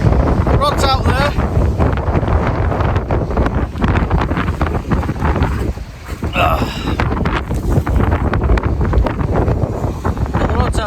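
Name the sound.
wind and rain at the seaside while fishing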